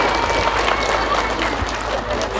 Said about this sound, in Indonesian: Oh ya tepuk tangan meneh enggak apa-apa ya.